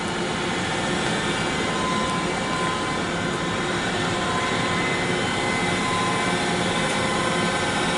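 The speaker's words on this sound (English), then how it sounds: "we use Comco as the grit blaster" A Comco grit blaster runs in a needle grinding setup, giving a steady, dense rushing hiss of air and abrasive that continues unbroken for eight seconds with no talk.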